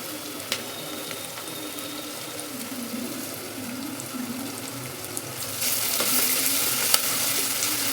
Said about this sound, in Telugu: ఆనియన్స్ కొంచెం ఫ్రై అయినాయి కదా